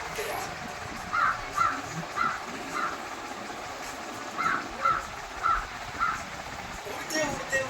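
A crow caws in short groups of two to four harsh calls with pauses between, fairly clear over a faint background hum.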